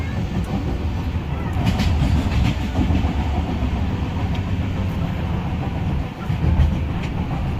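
A passenger train on the Dhauli Express route from Kolkata to Puri rumbles steadily along the rails, with repeated clickety-clack of wheels over joints heard from inside the carriage throughout.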